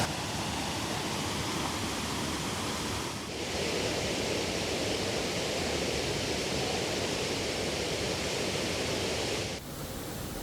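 A waterfall at Río Claro pours into a deep natural pool, giving a dense, steady roar of rushing water that stays loud and even throughout, with no voices.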